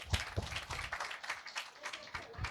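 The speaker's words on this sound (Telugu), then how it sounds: "క్లాప్స్ కొడతామండి." A congregation at a Sunday service, with children present, claps in a loose, uneven patter of individual hand claps, moderately close and without voices over it.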